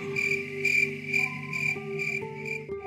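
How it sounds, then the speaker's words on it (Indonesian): Crickets chirp in steady, pulsing trills, high and continuous, with no voices. "Jangkrik biasanya juga muncul di malam hari dari semak-semak di rerumputan."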